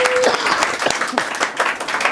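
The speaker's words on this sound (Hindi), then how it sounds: "सिर्फ ताली दो इन दोनों के लिए।" An audience at a church Bible study bursts into steady applause, a dense wash of clapping that continues throughout.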